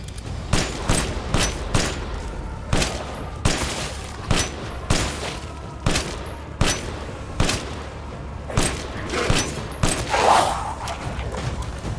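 Repeated gunshots ring out in Resident Evil Village, a steady run of sharp, loud reports spaced about a second apart with booming tails, and no talking over them.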